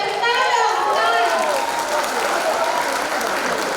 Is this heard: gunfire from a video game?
no